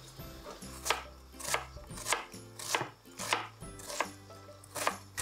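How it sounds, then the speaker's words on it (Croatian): A knife chops an onion into small cubes on a board, about nine crisp, evenly spaced strokes close up, each a sharp tap, with no talking. "idem sada nasiskati luk na sitne kockice."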